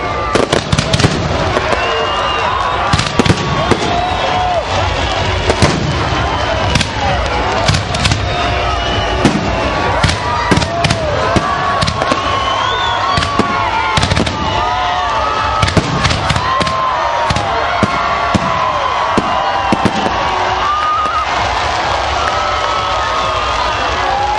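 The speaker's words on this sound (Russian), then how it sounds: "самым интересным на праздновании Дня энергетика был, конечно, завершающий салют" Fireworks salute closing an Energy Workers' Day celebration in Narva in 2006, heard as dense, continuous bursts and crackling bangs over a steady roar with crowd noise throughout.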